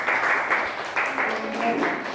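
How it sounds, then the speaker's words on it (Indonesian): Classroom audience applauding a student group, a short burst of clapping mixed with voices. "Kita beri aplaus kelompok 1."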